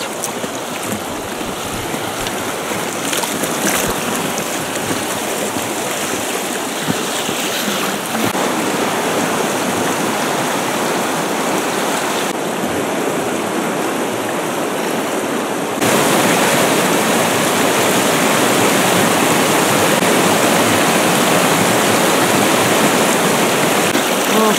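Rapids on a mountain river in the Verkhoyansk Range, a loud continuous rushing roar of churning water heard up close, steady throughout and growing heavier near the end, with no voices.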